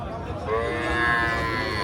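A cow lows in a long, drawn-out moo at a busy village cattle market during Eid, close and fairly loud over a murmur of background crowd noise.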